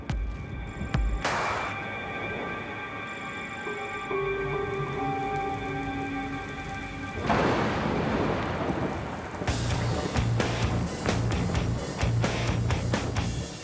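A hurricane storm with steady heavy rain and rumbling thunder, loud, with a big crack partway through and rain drumming hard on surfaces toward the end; no talk.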